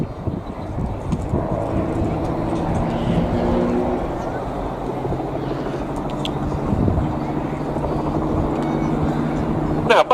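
Aerobatic display aircraft engines at the Cosford air show, a continuous droning roar with steady harmonic tones that swells and fades slightly as the planes maneuver, carrying on throughout without talk.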